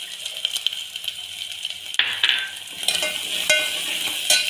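Spices with Kashmiri red chili powder, coriander powder, mutton masala and homemade black chili powder fry in oil while being stirred, a close sizzle broken by scraping and spoon clinks against the pan. No one speaks.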